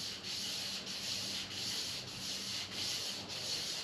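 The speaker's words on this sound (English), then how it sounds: "I'm trying to keep it distributed across the sandpaper to try to prevent wearing a groove into the journal" Sandpaper is worked by hand across a '57 Bel Air crankshaft journal, giving a steady, close rasping rub that swells in regular strokes about every half second, with no voices.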